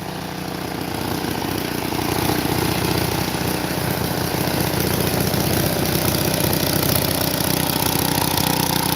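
A lawn mower engine with a carburetor in really bad condition runs rough and unevenly, with a steady loud drone that wavers and surges slightly throughout, close by with no talking.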